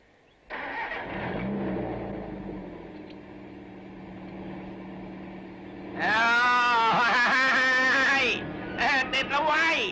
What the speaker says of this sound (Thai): ให้เร่งเครื่องเอาไว้